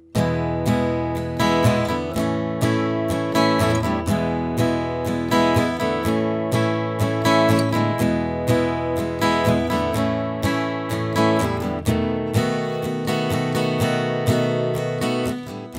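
Guitar playing the verse of a song, steady, close strummed chords in an even repeating rhythm with chord changes, loud and alone for the whole stretch.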